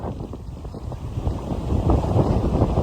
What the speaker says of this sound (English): It's windy as crap right now.